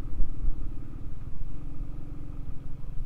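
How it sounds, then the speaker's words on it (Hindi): A 350 cc Royal Enfield motorcycle labors up a steep mountain road on the way to Fatu La, its thumping single-cylinder engine a steady, close, loud rumble throughout. "बाइक पूरी अपना फोर्स लगा रही है चढ़ने के लिए ऊपर"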